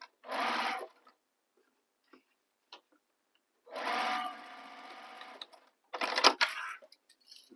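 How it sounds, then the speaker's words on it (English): Sewing machine back-stitching across a bag handle, running in three short bursts: a brief whir, a longer steady run, then a choppy stop-start stretch, with quiet gaps and faint clicks between. "So I'm just going to back stitch over it."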